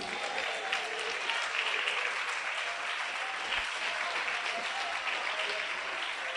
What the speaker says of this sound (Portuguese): Alguém pode aplaudir a Jesus por isso?